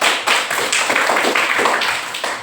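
Children in a classroom clap their hands together in a loose, rhythmic run of about eight or nine claps, loud and close, with no talking.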